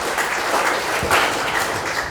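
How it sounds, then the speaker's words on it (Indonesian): A church congregation at a Good Friday service applauding together, a broad, even patter of many hands that fills the room at moderate loudness for a couple of seconds. "Kita kasih tepuk tangan untuk Tuhan."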